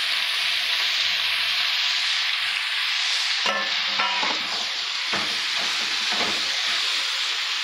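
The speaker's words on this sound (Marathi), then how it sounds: "हे आपल्याला आता छान शिजवून घ्यायचं आहे. परतून घेऊया जरा." Spinach and fenugreek sautéing in a pan for veg dal, a steady loud sizzle and hiss broken by several scraping stirs of a spatula near the end.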